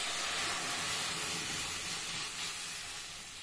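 Biulir dal, urad lentils, sizzling steadily as they fry in a pan with onions, a loud continuous hiss that fades slightly toward the end.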